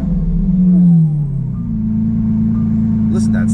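A Lamborghini Aventador S starts up with a brief rising whir and roar that dips, then settles into a steady, deep idle rumble. A faint voice is heard near the end.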